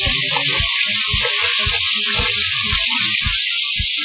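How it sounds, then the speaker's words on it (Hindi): Chopped onion frying in warm ghee or cooking oil, a constant loud sizzle and hiss close up, with irregular clinks and stirring knocks beneath it. "इसको इतना फ्राई करेंगे कि ये हल्का सा ब्राउन हो जाए"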